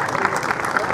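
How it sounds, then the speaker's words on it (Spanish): Crowd applauding at the Avellaneda racetrack during a motor racing event, a brief burst of dense clapping mixed with a voice talking over it. "dale un aplauso grande para Ale Peli con la Black Pozo."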